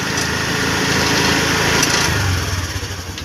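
A Honda Dio scooter engine racing at high revs right after starting, its accelerator lacking free play: a loud, steady, close buzzing drone that holds without easing, with no talk.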